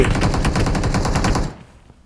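Loud, rapid automatic gunfire in the battle royale game PUBG Mobile, a dense steady rattle of shots that runs for about a second and a half, then cuts off into near silence.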